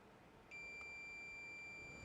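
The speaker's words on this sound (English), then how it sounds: "There's a beep there." Multimeter in continuity mode emitting a single steady high-pitched electronic beep that starts abruptly and holds unbroken, clean and fairly quiet against faint background hiss.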